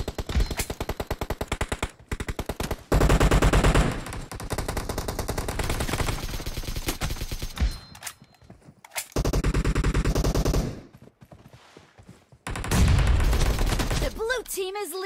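Loud automatic gunfire in PUBG Mobile's Domination mode, with long sustained bursts of rapid shots that stop and restart across the clip, broken by short quiet gaps, with a few game sound effects mixed in.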